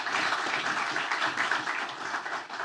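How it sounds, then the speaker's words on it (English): Audience applause at a business breakfast briefing as a panel guest, a ministry healthcare official, is introduced; steady, dense clapping from a room of people runs throughout without letup. "Give her a round of applause, please,"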